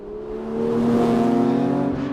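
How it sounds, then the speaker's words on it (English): Porsche GT3 with a 503 bhp naturally aspirated engine revving, a loud, steady high-pitched howl that builds over the first second and holds, with no talking. "You can absolutely see and hear why Weissach fought like lions to keep this naturally aspirated engine."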